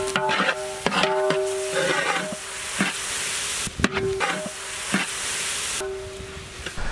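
Ginger garlic paste frying with onions in a pan for a murrel fish curry, a steady close sizzle broken by sharp clacks and scraping strokes of a spoon against the pan.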